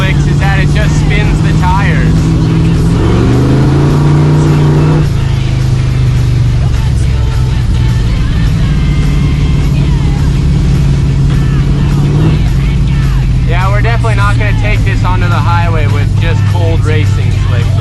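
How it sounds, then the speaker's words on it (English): C10 truck on racing slicks revving hard, a loud close engine drone that climbs and dips as the tires spin on a smooth road, with people talking over it. "That's the problem with racing slicks, is that it just spins the tires."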